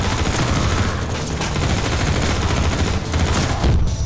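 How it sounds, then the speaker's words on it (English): An automated turret in the Half-Life 2 Episode Two video game fires in sustained rapid bursts, a loud dense rattle of gunfire with sharper cracks punctuating it and a brief heavier hit near the end. "Oh, that's a turret."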